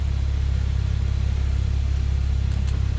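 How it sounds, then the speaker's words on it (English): Idling engine of a Porsche 911 Turbo 991 coupe, a steady deep pulsing rumble close by, loud and unbroken. "I'll just turn down the engine now, because we are just idling here."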